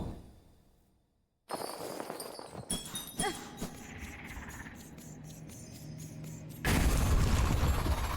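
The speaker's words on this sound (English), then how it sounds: "This time with explosions." Explosions in the video game Silksong: after a brief quiet, bursts and cracks erupt with crunchy debris and rattling impacts, ending in a loud sustained roaring blast.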